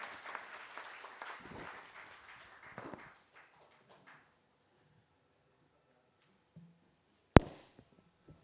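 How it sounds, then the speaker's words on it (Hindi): Applause from an audience welcoming the chief guest at a formal gathering, a dense burst of clapping for about three seconds that thins out and stops, followed by near silence with one sharp loud knock. "ज़ोरदार तालियों के साथ हमारे ऑनरेबल चीफ गेस्ट का स्वागत करें दोस्तों।"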